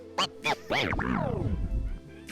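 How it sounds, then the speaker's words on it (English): Two quick scratchy chirps, then a long, slow DJ turntable drag as the platter is pulled back, pitch sweeping downward and groaning to a low rumble before stopping. "You're going to pull that platter back slowly."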